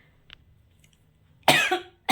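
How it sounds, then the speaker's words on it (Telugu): A person coughs twice, close to the microphone: a long harsh burst followed by a second, shorter one, with near silence and faint background hum before them. "చూసారా, దగ్గు వస్తుంది అనమాట"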